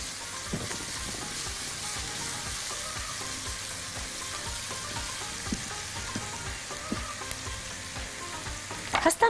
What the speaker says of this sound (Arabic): فهنحمر البصله ونرجع لتسبيكه زمان